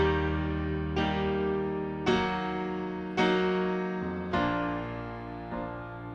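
Piano chords move from major to minor by lowering the third, five separate chords struck one after another at an even, unhurried pace, each ringing and decaying before the next, with no talking.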